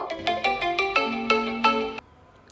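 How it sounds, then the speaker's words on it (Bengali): A mobile phone ringtone plays a bright melodic tune of repeated chiming notes for about two seconds, fairly close and clear, then cuts off abruptly, with no talk over it. "দেখতেছো না আমার ফোনটা বাজতেছে?"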